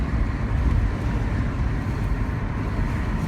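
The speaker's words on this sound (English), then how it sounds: "Second gear start. Solid, throaty, smooth, great gearbox." A car pulls away from rest in second gear, its engine giving a steady, throaty low rumble that stays dense and fairly loud throughout, with some wind buffeting on the microphone and no talking.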